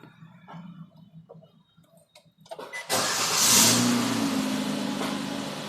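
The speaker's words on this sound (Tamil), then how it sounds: "கார் ஆன் பண்ணியாச்சு." Car engine cranking and catching at about three seconds after a stretch of quiet background sound, then settling into a steady, fairly loud idle that holds to the end, with brief revving as it starts.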